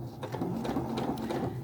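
A domestic sewing machine runs steadily through a straight stitch on ribbon, its even motor hum and rapid needle clatter continuing unbroken at close range.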